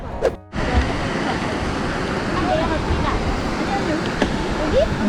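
Rushing water of Jeongbang Waterfall on Jeju roars in a steady, dense wash of noise, heard from nearby, continuous throughout.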